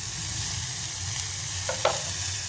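Garlic and ginger fry in a pan with a constant bright sizzle and soft stirring scrapes, close and fairly loud, with a couple of quick clinks near the end and no voices.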